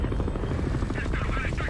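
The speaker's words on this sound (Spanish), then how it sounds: "Se fue en el helicóptero, ¿verdad?" A helicopter in the video game Resident Evil 6 thumps with fast, rhythmic rotor chop, loud and close, while a voice talks over it.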